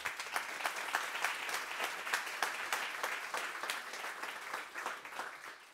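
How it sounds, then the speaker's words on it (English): Seminar audience applauding steadily, a moderate-sized crowd clapping evenly for several seconds at modest volume, with no voices over it. "So a warm thank you to all four and applaud."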